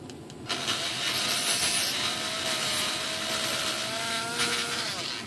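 A piece of music wire being cleaned from its straight end, a continuous scraping, rubbing rasp with a faint high squeal that runs steadily throughout, close up.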